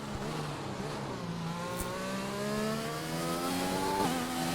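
A race car on intermediate tyres accelerates out of turn 1 in a racing game, its engine note climbing through the gears in smooth rising sweeps at moderate volume.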